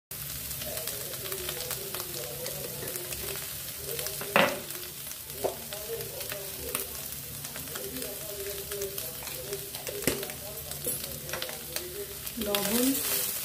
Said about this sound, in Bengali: লবণ, সামান্য লঙ্কা গুঁড়ো আর সামান্য গোলমরিচ দিয়ে সয়াবিনগুলো ফ্রাই করে নিচ্ছি